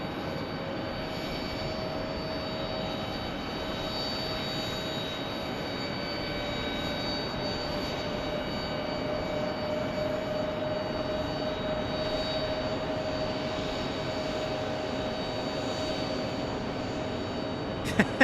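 An American Airlines Airbus A320 jet on flight 1625 at Phoenix Sky Harbor, its engines a steady, continuous broadband roar with a faint whine, holding an even level throughout and heard alone without talk.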